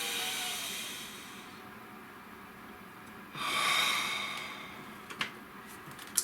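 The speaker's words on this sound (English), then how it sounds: "Nice deep breath" A long, deep breath drawn in and let out, a breathy hiss building and fading, close and soft, followed by a couple of small clicks.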